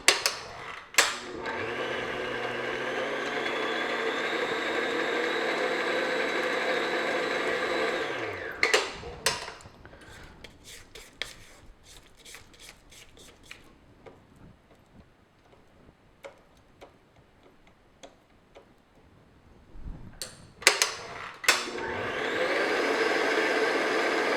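An electric hand mixer beats an egg yolk into thumbprint cookie dough, a loud steady whir running for about eight seconds, then stopping for quiet scraping and clicks before starting up again near the end.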